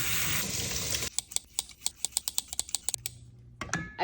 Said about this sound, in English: So now I'm gonna go ahead and wash off this seaweed